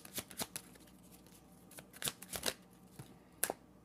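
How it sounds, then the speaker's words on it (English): Tarot cards are shuffled by hand in a quiet room, producing a run of soft, quick riffling and slapping bursts in uneven clusters, close but faint, with no voices. "I gave a shuffle."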